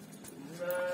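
A ram bleats briefly at a livestock sale, a short nasal call close by over a low background murmur of the pen.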